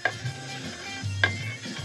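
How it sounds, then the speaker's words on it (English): Oil pump valves on a Royal Enfield Bobber are ground in by hand, making a soft, continuous gritty scraping with two brief sharp metallic clicks, close and fairly quiet. "Ladyship is grinding in the oil valves"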